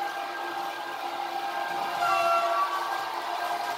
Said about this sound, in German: Und das dumpfere, was ihr jetzt hört, sind vom Taurus die Originalfahrmotoren, die man hört.